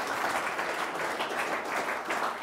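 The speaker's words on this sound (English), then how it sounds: "Give him a round of applause" A steady round of audience applause fills a business leaders' event, a continuous crowd of hands clapping at moderate volume with no talk over it.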